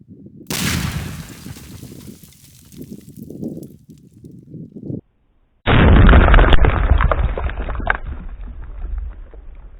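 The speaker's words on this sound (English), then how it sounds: "So we just simulate the height of explosion right here, putting it above the ground and exploding it in that way." A WWII German S-mine 35 Bouncing Betty, rigged to detonate above ground, goes off with a sharp, loud blast followed by a rumbling roll, then a second heavy burst of noise after a brief gap.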